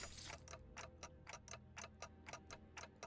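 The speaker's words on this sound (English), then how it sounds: "Ticking is all I can hear." Steady clock-like ticking in the game Limbus Company, about three even ticks per second, crisp and fairly close, with no voices over it.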